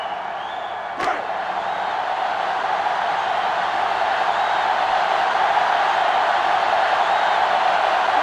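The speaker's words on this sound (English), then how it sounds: "And this crowd is going crazy." Stadium crowd roaring continuously in the NCAA Football 2005 video game during a Michigan vs. Ohio State matchup, a loud steady wash of cheering after a sharp thud near the start.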